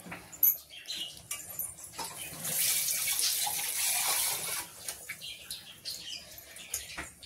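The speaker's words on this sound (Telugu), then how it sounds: "ఇదిగోండి మిక్సీ కడిగిన వాటరు" Water used to rinse a mixer jar is poured into a pan of mixed vegetable curry, heard close up as a short gush in the middle. Small clinks and splashes come before and after it.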